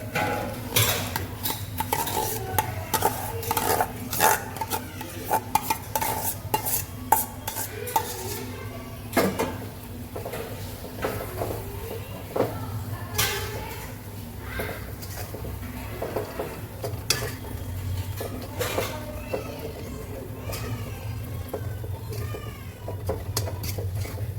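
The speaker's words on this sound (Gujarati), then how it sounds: "હવે આપણે બટેકાનો માવો નાખશું." Mashed potato stirred into a masala for ragda in a metal pan, repeated scraping and clinking of a spoon against the pot with a faint sizzle, close and steady with no talking.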